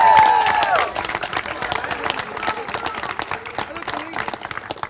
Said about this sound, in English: let's give them one more round of applause for the Predators going to the Stanley Cup